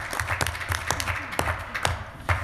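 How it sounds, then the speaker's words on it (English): An audience at a council meeting claps for the contributors to a community plan, a steady patter of many hands with sharper individual claps standing out, fairly close. "let's give you applause"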